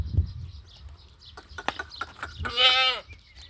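On a goat farm in Rajanpur, a goat gives one loud, wavering bleat close by near the end, after scattered rustling and faint farmyard noises.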